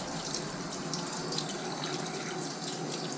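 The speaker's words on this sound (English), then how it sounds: "There's the hot water coming." Hot water runs steadily from the tap into the sink of a restored 1984 Alpine GL Sprite caravan, a close, continuous splashing hiss with no speech over it.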